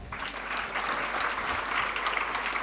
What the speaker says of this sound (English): Please make sure you clap very loudly